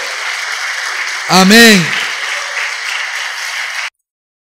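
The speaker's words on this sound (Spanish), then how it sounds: "Él es digno de que le demos un aplauso en este momento." A church congregation claps together in a sustained burst of applause that holds steadily, then cuts off abruptly, while a preacher speaks briefly over the middle of it.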